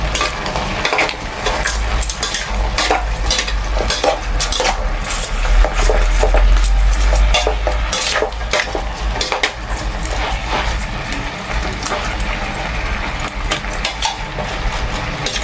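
A cooking pot with seasoning just added is stirred over the heat, with steady clinks and scrapes of a utensil against the metal under a constant sizzle close by, no talk.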